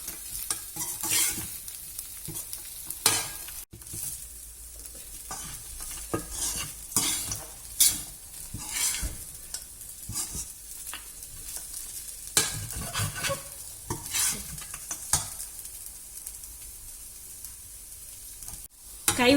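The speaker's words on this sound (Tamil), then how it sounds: "கைவிடாம கிண்டிக்கிட்டே இருங்க" Flattened rice upma stirred steadily in a pan, a spoon scraping and clacking against the metal in an irregular rhythm over a faint sizzle, close and moderately loud with no talking.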